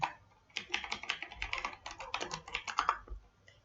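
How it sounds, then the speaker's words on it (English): Someone types an email address on a computer keyboard, a fast irregular clatter of close keystrokes with brief pauses and no voices. "you need to type your email address provided by NIC"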